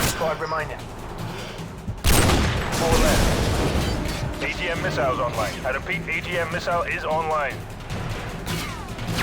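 A loud burst of gunfire erupts, then scattered shots and crashes continue while someone talks over the noise, in Call of Duty: Modern Warfare 2.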